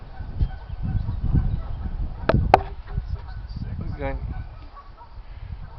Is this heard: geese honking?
yes